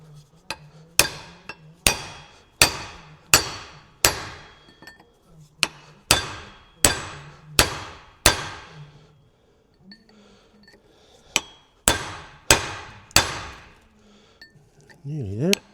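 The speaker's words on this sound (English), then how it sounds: "we get in there with a chisel and hopefully split it out" A hammer strikes a chisel to split a part off a David Brown tractor, giving sharp metallic blows in rhythmic groups of several, with short pauses between bursts.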